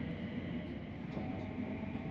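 A commuter multiple-unit train running on a line in the Greater Glasgow area, with a steady low rumble and hum that holds at an even, moderately close level throughout, with no voices.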